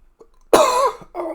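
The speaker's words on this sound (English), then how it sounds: "Coughing hurts so much." A person gives one loud, harsh cough followed by a shorter second one, close and alone.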